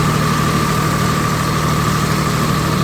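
A tractor engine runs in a flooded paddy field as it is readied for rice planting, a loud, steady close-up diesel drone with a constant low throb and no talk.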